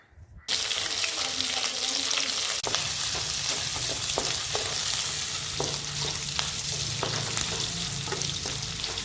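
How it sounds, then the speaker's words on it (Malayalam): Curry leaves, ginger, garlic, green chilli and coconut bits fry in coconut oil in a pan, giving a loud, steady sizzle that starts abruptly. Occasional scraping stir strokes sound throughout. "നമുക്കൊരു ചട്ടി വെച്ച് വെളിച്ചെണ്ണ ഒഴിച്ച് കറിവേപ്പില, ഇഞ്ചി, വെളുത്തുള്ളി, പച്ചമുളക്, തേങ്ങാക്കൊത്ത് എന്നിവ ഇട്ട് നന്നായിട്ട് അങ്ങ് ഇളക്കാം"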